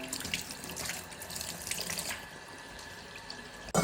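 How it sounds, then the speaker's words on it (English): Tap water runs into a sink as chicken breast is washed for cooking, a steady close hiss with splashes, easing off before a sudden louder gush at the end. "First thing, wash the breast chicken."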